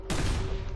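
Warhammer 40K bolter fire in Fallout 4, a sustained loud burst of rapid gunfire lasting nearly the whole moment, dense and continuous with a steady hum beneath.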